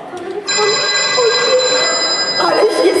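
A telephone rings loudly with a sustained, trilling bell tone close by, while faint voices murmur underneath, during a comedy sketch at a gala concert.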